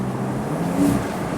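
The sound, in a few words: wind noise with windows down in Porsche 911 Targa 4S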